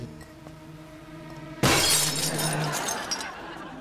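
A thrown drinking glass shatters with one sudden, loud crash close by, followed by a brief tinkling spray of falling shards and a low hum underneath.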